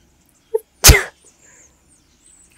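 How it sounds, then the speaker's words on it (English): A single sharp sneeze bursts out close to the mic, with a faint short inhale just before it, then near silence. "Oh, I'm gonna sneeze."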